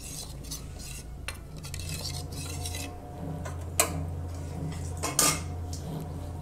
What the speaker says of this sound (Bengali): মশলাটা আমি গুলিয়ে দিচ্ছি।